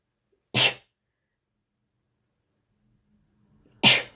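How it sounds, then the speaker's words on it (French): A woman sneezes twice, loud and close, the two sharp bursts about three seconds apart with near silence between them. "je suis désolée, je vais éternuer"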